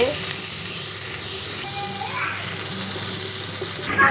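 Mint, coriander and curry leaves sauté loudly in a pan for tomato rice, a dense, constant sizzle with occasional stirring scrapes and a faint voice in the background.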